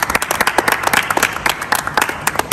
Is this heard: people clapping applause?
yes